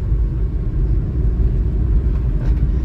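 A Daihatsu Hijet truck engine labours steadily in fifth gear up a steep hill at about 35 km/h, a loud, continuous low rumble with no pauses.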